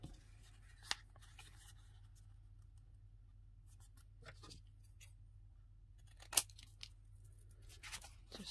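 Scissors snip through paper while a craft tag shape is cut out, a few sparse crisp clips and rustles separated by quiet pauses, close and soft over a faint background hum.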